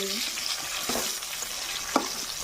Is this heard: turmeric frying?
yes